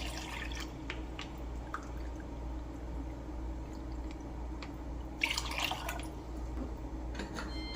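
Two cups of bottled water splash into a small pot for jasmine rice in a brief burst of pouring partway through, surrounded by faint scattered drips over a low steady hum.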